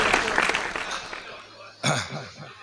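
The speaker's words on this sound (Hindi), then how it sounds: "आप फिर एक बार जोरदार ताली उनके लिए बजाइए" An audience claps for the SHO during an Independence Day mushaira and felicitation ceremony in Khatauli, Muzaffarnagar. Dense, loud clapping fills the first half, thins and fades, and a voice speaks briefly near the end.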